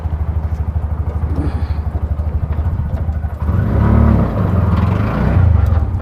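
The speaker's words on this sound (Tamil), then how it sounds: "ஸோ வண்டி இப்போ நம்ம மூவ் பண்ணுறோம் செகண்ட் கியரில் போயிட்டு இருக்க வண்டி" A motor vehicle drives along in second gear, its engine running with a steady pulsing drone that grows louder and rougher as it pulls harder partway through, heard close with no talking.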